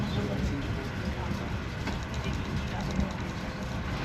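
Steady low rumble and rattle of a passenger train heard from inside the carriage on the iron ore line toward the Arctic Circle, a continuous even drone with faint clacks.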